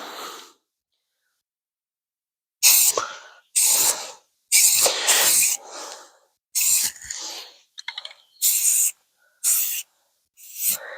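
Short hissing bursts of a spray can painting a 1950 Ford F1 tailgate outdoors, about eight in a row separated by silences, close and fairly loud.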